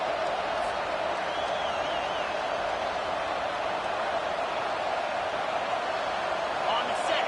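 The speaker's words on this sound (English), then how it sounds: "This crowd busting the decibel meter and trying to will a 4th down stop" A steady, loud stadium crowd roar from a college football video game, a constant wash of cheering noise for the whole stretch, with a commentator's voice faintly over it.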